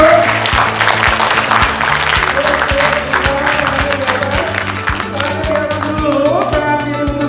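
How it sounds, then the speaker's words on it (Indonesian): Audience applause at a product soft launch in Indonesia: dense sustained clapping throughout, loud and close, with a music bed underneath and crowd noise mixed in. "Kasih aplaus dulu Mira Ento."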